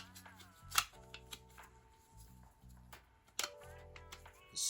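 Snapping clicks of a plastic chassis pan pressed into a 1/24 scale model kit body, a few sharp close taps and snaps spaced irregularly over light handling noise.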